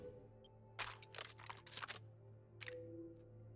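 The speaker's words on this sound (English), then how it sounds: "I love the crunchy noise as you attach gun mods." Several crunchy mechanical clicks and clacks as weapon mods snap onto a gun in Resident Evil Village, clustered in a quick burst, then a softer click a moment later over a low steady game hum.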